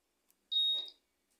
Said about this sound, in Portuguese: Vocês viram que deu um bip? Dois bip.